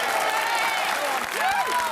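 Sustained applause fills the UK House of Commons chamber, a dense patter of clapping that runs on throughout while a voice speaks over it.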